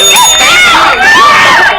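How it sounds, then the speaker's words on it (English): A burst of bell sound effects played on a live call-in show, loud and bright with ringing tones sweeping up and down over a crowd-like cheering wash for about two seconds. "Let's have some bells here for Minerva"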